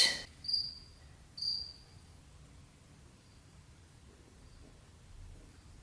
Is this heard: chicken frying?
no